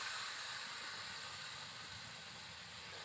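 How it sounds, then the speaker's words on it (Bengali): Water added to a pan of potato and soybean curry raises a steady, close hiss of sizzling steam that holds evenly for a few seconds. "এবার আমি জল দিয়ে দিচ্ছি, পরিমাণ মতন জলটা দেব"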